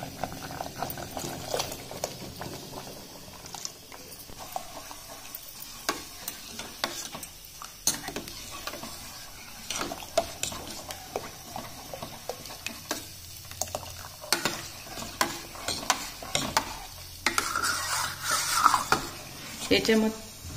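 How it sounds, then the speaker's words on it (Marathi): Milk poured into a pot of simmering red pumpkin kheer and stirred with a spoon: continuous scraping and clinking of the utensil against the pot over a soft bubbling, growing busier toward the end. "आता याच्यामध्ये आपल्याला दूध टाकायचं आहे।"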